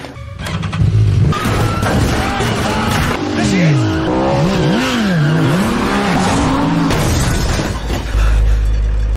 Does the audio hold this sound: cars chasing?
yes